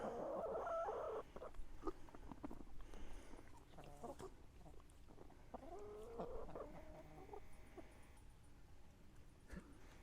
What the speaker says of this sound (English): Wow, this is an aggressive chicken.